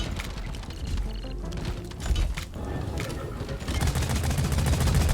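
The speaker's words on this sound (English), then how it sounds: "So shoot the glowing weak points." Rapid gunfire in the Deep Rock Galactic video game, aimed at the glowing weak points of a bulk detonator creature, crackles continuously over busy game noise and grows denser and louder toward the end.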